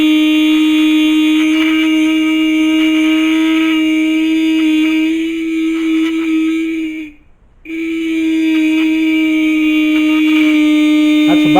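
A 1955 Allstate Puch 6-volt horn buzzes steadily and loudly, a sustained electric drone that cuts out briefly midway and then resumes at full strength, heard alone while its adjustment screw is being turned.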